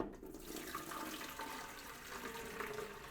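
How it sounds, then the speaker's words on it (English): Water pours steadily into the tank of a GENIANI ultrasonic cool mist humidifier, a continuous splashing fill heard alone at close range. "Now I have the humidifier completely filled up with water"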